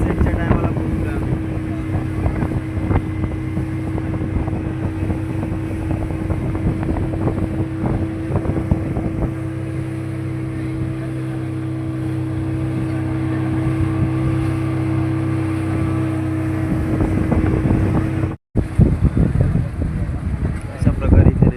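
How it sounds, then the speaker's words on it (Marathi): A motorboat engine drones steadily and loudly with wind buffeting the microphone as the boat nears an island off Malpe Beach at sunset. The engine then cuts out abruptly near the end, leaving wind noise. "बोट थांबवत आहे, आम्ही उठतो आता."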